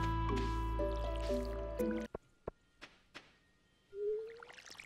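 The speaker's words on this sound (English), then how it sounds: "So we should probably water everything before we go to the fair." Crops being watered in the video game Stardew Valley: soft watering-can splashes and drips after a stretch of light game music, with a few sharp clicks and one longer rising liquid swoosh near the end.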